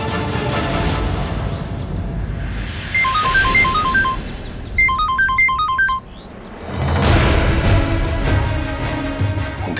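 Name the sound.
phone ringing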